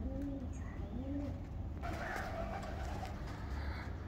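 Pigeons in a breeding cage give soft, rolling coos, a few low calls close by with a muffled background hum and no talking.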